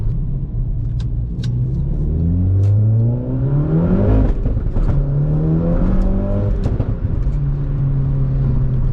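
An Audi S1 engine revs up through rising gears while overtaking, the pitch climbing repeatedly as it accelerates hard, loud and close inside the vehicle.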